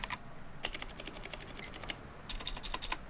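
A mechanical keyboard with black clicky NMB RT8756CNW space invader switches is typed on in quick bursts, giving sharp, high-pitched, rattly clicks in close succession, fairly quiet, with a short pause between two clusters of keystrokes.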